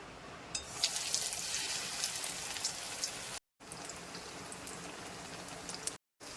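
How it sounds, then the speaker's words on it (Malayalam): Eggs dipped in gram flour batter deep-fry in hot oil, a loud continuous bubbling sizzle with crackling pops that holds steady throughout, briefly cut by short gaps of silence. "ചമ്മന്തി മുക്കിയ മുട്ട നേരത്തെ തയ്യാറാക്കി വെച്ച് കടലമാവിൻ്റെ ബാറ്ററിൽ മുക്കി പൊരിച്ചെടുക്കാം."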